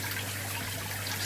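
Water sprays and splashes inside a container in a homemade keg and carboy washer, a faint steady trickling hiss over a low motor hum.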